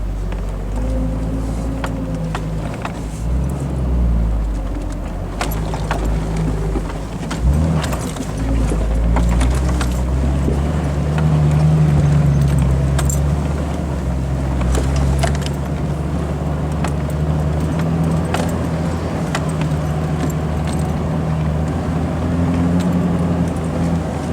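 A Jeep crawling slowly up a four-wheel-drive off-road mountain trail, a steady low engine rumble with clanks, rattles and jangling inside the cabin throughout.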